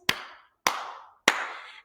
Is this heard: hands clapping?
yes